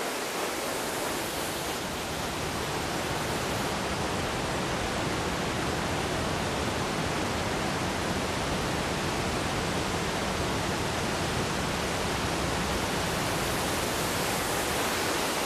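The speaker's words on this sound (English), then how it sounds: "I got the best seat in the house, right at the foot of the waterfall. The sound is deafening." A waterfall roars from its foot in a deep crevice in Kazakhstan, a dense, deafening rush of falling water that holds constant and fills the whole stretch.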